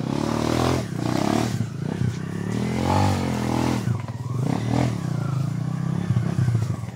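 A motorcycle engine revs loudly and close by, rising and falling in pitch with rattling clatter between surges.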